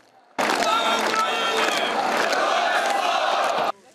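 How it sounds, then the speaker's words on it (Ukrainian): Kyiv residents give warm applause as a bus carrying returning soldiers rolls onto the grounds of a military unit; a dense, continuous burst of clapping and crowd noise lasts about three seconds, then stops. "Щирими оплесками кияни зустрічають автобус, у якому герої в'їжджають на територію військової частини"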